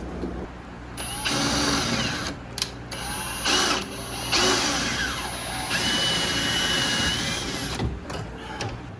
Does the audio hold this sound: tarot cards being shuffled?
no